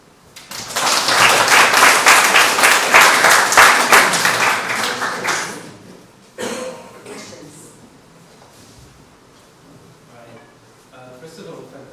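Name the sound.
applause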